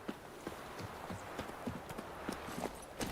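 Roach, a horse in Witcher 3, clip-clops along at an even walking pace, each hoof strike a soft, muffled knock, faint and fairly distant over a steady background wash.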